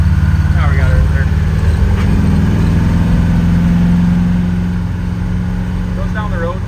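A 1970 Chevrolet Nova cruises down the road, its engine holding a steady, loud low drone throughout as a voice briefly speaks over it.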